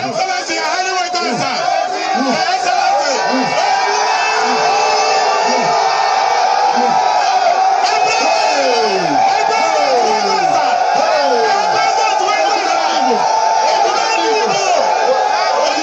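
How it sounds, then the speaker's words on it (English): A large, excited crowd of traders at Alaba market in Lagos cheers, shouts and whoops continuously, loud and close, welcoming a visiting presidential candidate and his team. "Security operatives attempt to contain the excited crowd who were on hand to welcome him and his team."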